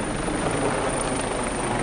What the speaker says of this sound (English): There's a helicopter overhead now.